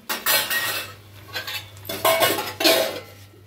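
Metal dishes, pots and pans clatter and scrape in a home kitchen after cooking chaat, with several distinct bursts of clanking spread across the clip and no talking.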